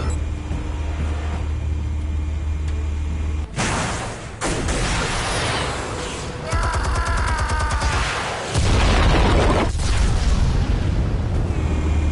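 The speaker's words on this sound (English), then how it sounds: "Explosives armed. Fire when ready." Armed explosives going off in Batman: The Telltale Series, several loud booming blasts that break into crashing debris and crackling rubble, separated by a low rumbling drone and ending in a heavy, sustained roar.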